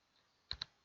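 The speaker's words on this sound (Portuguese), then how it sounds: "vou escrever" Two quick, faint keystrokes tap close together on a computer keyboard in a quiet room.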